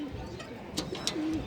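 Pigeons kept at home coo softly in a few low drawn-out calls, with a couple of brief sharp clicks or taps nearby and no talking.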